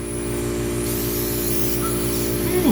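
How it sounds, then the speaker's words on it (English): Compressed air hisses steadily and loudly through a bolt hole in treehouse timber, blowing out chips and dust, with a low mechanical hum underneath for the whole few seconds. "I don't think they realize how loud escaping air is."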